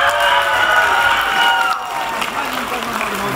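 A large outdoor crowd at a village festival applauds and cheers to welcome a singer onto the stage, a dense, steady wash of clapping that holds loud throughout and dips slightly near the end.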